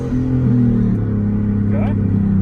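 A single-turbo 2018 Mustang GT pulls slowly in third gear, its engine holding a low, steady drone with rising tonal hum from close inside the cabin, with brief voices over it.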